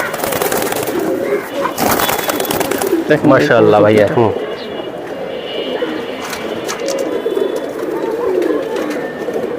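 Rabbani line pigeons coo loudly at close range, with a strong rolling coo in the middle, amid sharp clatters, rustling and a busy bird-market din, while someone talks over parts of it.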